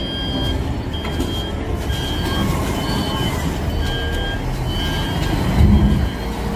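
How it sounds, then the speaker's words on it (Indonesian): A forklift reverse alarm beeps in a steady repeating pattern, high and thin, over a constant rumble of engines and traffic nearby, with a louder low burst of noise near the end. "Forklift."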